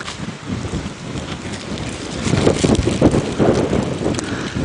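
Wind gusting across an open safari vehicle on a live game drive in the African bush, a steady close roar of rushing air that swells louder about halfway through, with no voices.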